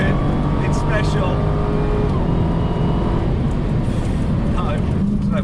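A Dodge Demon launches in launch mode with its wheels spinning, a loud, continuous engine roar and tyre noise held steady throughout, close up, with a voice talking over it.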